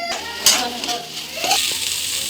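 Salt, turmeric and cumin powder are stirred through a sizzling pan for an Assamese murighonto, with a steady frying hiss, scraping strokes and a voice talking over it.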